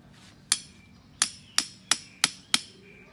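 A grounding rod is hammered into soil with six sharp metallic strikes. They land about half a second apart, close and loud against a quiet background.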